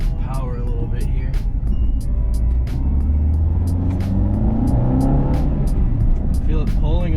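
A Renault Clio 172 engine pulls under throttle on a road drive, its droning note climbing and wavering as revs build, heard from inside the car over steady road rumble.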